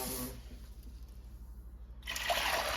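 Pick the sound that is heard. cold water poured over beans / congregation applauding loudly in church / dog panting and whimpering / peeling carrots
cold water poured over beans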